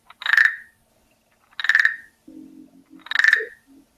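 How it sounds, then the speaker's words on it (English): A wooden frog rasp toy has a stick run along its ridged back, producing three loud, close croaking rasps about 1.5 seconds apart, with a soft voice murmuring between the last two. "he's got this little stick that he kind of bites on, and you run the stick up his back"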